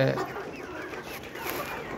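Layer hens on a farm cluck and chirp together in a dense, continuous flock chatter that holds steady at moderate loudness for the whole stretch.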